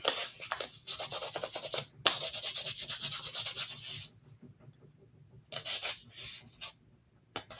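Rhythmic sanding strokes scrape close by in quick bursts, pausing briefly partway through before a few more passes, in a quilting workspace.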